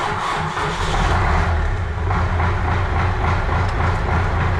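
An MTZ-80 tractor's diesel engine rumbles loud and close, a dense, steady low throb that holds without pause.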